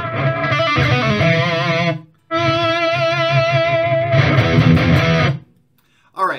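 Overdriven electric guitar played through amp simulation in Reaper, sustained distorted notes and chords ringing loud and bright in three phrases with short silent gaps between them.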